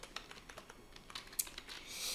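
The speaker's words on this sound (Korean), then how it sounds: "여기에다가 레지디트라고 써볼게요." Quick irregular keystrokes on a computer keyboard, typing the word regedit into a Windows search box, a dozen or so crisp clicks close and fairly quiet with no talking.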